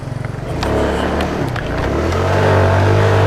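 A small stock motorcycle starts with a short burst of putters, then its engine revs up hard into a loud, rising drone as it lifts into a wheelie, close by with nobody talking.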